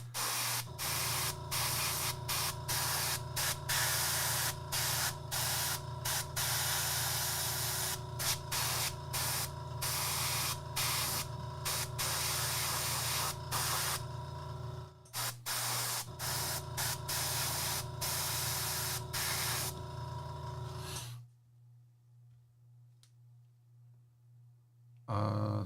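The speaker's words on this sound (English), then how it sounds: "Yeah, I have my air compressor like in a box." An air compressor runs enclosed in a box, a steady muffled hum under sharp rapid hissing bursts of air, before it cuts off near the end and the room goes quiet.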